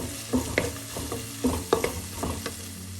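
Chopped onions softening in a pan for a trevally fish pepper curry, stirred with several distinct scraping strokes over a gentle sizzle, close and fairly quiet with no talking.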